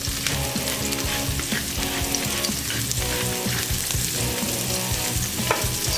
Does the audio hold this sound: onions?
yes